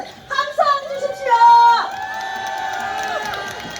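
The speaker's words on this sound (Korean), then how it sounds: "여러분 함성 주십시오" A crowd at an outdoor rally cheers and whoops in several short bursts, then settles into a sustained shout under the noise of the gathering.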